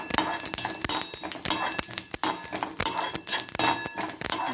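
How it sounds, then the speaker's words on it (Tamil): Pepper, cumin and dry ginger sauté in a pan, with a rapid series of close metallic clinks from a spoon scraping and tapping the pan over a steady sizzle. "அதுக்கப்புறம் கொஞ்சம் மிளகு, ஜீரகம், அப்புறம் கொஞ்சம் சுக்கு எல்லாம் போட்டு ஒரு வதக்கிக்கணும்."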